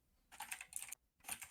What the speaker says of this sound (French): Clavier mécanique.